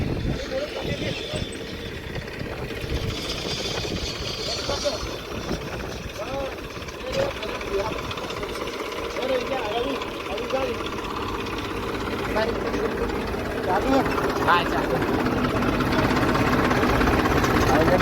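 Massey and Sonalika tractor engines run at a steady low rumble, idling with a rough knocking throb that grows slightly louder toward the end, under a background of voices.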